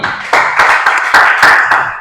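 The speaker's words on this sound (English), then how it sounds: "Clap for me." An audience at a climate event claps on request, a burst of sharp, close hand claps with an uneven rhythm lasting about two seconds, loud and without speech.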